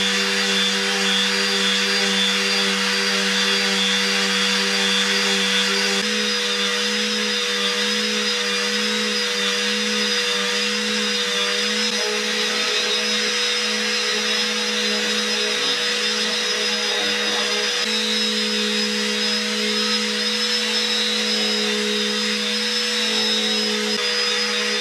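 Drum rim of a shaman frame drum being worked with 120 grit sandpaper, heard as a steady, loud machine hum with a constant whine and an even rushing rasp, unbroken for the whole stretch with no talking.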